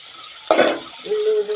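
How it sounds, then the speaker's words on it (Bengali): Sliced onion and green chili fry in a pan for egg noodles, a steady close sizzle with a brief clink of a utensil against the pan partway through. "পেঁয়াজ আর কাঁচামরিচ এটা ভেজে নিচ্ছি"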